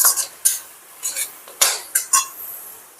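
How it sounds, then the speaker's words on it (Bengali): A spoon stirs and scrapes paste with ground coriander and cumin in an oiled pan for paneer butter masala, six or seven distinct metallic scrapes and taps against a quiet background. "দিয়ে এটাকে একটু কষিয়ে নেব।"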